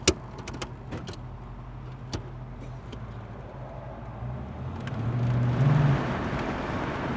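A 1969 Chevrolet Camaro Yenko-style convertible pulls away and drives, its low engine rumble steady and then swelling as it accelerates midway, heard from inside the car with a few clicks and knocks early on.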